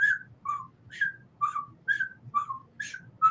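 A bright, cheerful whistled tune from animated marching ants, in short, evenly spaced notes, marching-like rhythm, over a soft low rumble of background noise.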